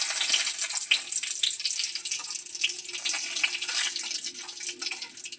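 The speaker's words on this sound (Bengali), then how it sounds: "এখন কড়াইতে সাদা তেল দিয়ে এর মধ্যে দিয়ে দিচ্ছি শুকনো লঙ্কা" Dried red chillies and bay leaves tempering in hot white oil in a wok, giving a steady, soft, crackling sizzle with small pops throughout and no talking.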